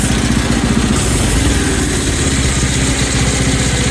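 A small go-kart engine from an inexpensive Amazon kit chugs at a steady, close idle, then picks up slightly as a little throttle is added, running loud and alone with no talking.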